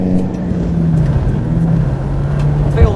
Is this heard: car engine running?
yes